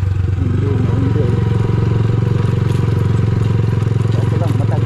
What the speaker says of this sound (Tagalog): Kaso lang matagtag talagang motor dito, no?